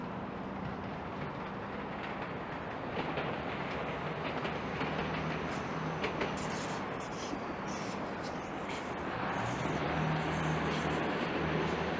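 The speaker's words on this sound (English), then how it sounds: "There goes that train making its way back up to the airport." A diesel train rumbles past at a distance in downtown Toronto with steady rolling noise and faint clicking of wheels on rails, growing slightly louder toward the end.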